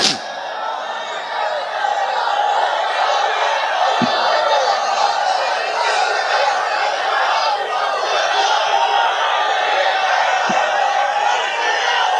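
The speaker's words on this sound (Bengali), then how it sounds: "এখন একটা তাকবীর দেন মন ভরে।" A large crowd at an Islamic sermon chants the takbir together in a loud, sustained roar of many voices that carries evenly from start to finish.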